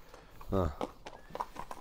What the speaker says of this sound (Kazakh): Таза қанды қырғыз жылқы?